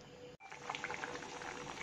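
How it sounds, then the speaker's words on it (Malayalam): Chicken curry boils in a pot with added water, giving a faint, steady bubbling with soft pops and one brief break near the start. "ഇനി ഇത് നന്നായിട്ട് തിളക്കട്ടെ. തിളച്ച് നന്നായിട്ട് തിളക്കണം."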